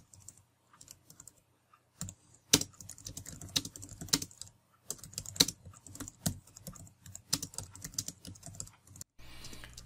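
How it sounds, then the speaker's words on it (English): Typing on a Logitech Craft keyboard gives bursts of low-pitched, muted key clicks in quick irregular runs, close and fairly soft, with brief pauses between flurries and no talk. "you're getting a clicking sound, but it's a very low-pitched sound"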